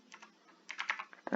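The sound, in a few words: typing a Linux command on a computer keyboard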